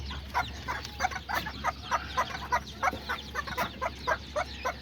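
Small Azteca and serama chickens with a tiny rooster cluck and chatter in a steady run of short, close calls over a low background hum, with no talking.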